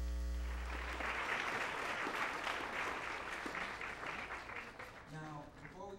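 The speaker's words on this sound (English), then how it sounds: "applause for these brave souls" A school audience at a World Music Day show applauds, a full, loud burst of clapping that carries on steadily and then thins out, with a few voices and a tone breaking through near the end.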